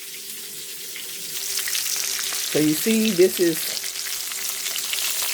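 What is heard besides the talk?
searing stuffed mozzarella and spinach meatballs in a pan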